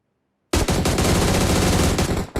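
Rapid automatic gunfire from a battle royale video game, a dense continuous burst that starts abruptly after a half-second of silence and stays loud throughout.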